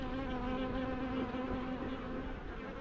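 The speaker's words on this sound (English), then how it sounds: "Hello bees, say hello bees." A dense, continuous buzz of many bees, steady and close, filling the whole stretch without pause.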